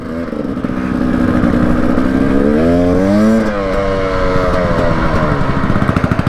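A borrowed KTM 300cc two-stroke enduro motorcycle runs loud and close, its engine note rising in a rev and falling back to a choppy, popping idle.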